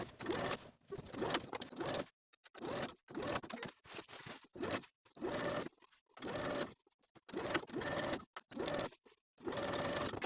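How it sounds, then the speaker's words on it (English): A sewing machine understitching the lining at a pinafore dress neckline runs in repeated short bursts of rapid whirring stitching, separated by brief silent pauses, close and moderately quiet with no talking. "start a new set of understitching on the opposite side of the center V, again backstitching to secure"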